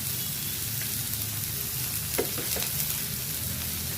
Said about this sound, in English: now I'll drop in these broad beans, or what we say here in South India, Avarakkai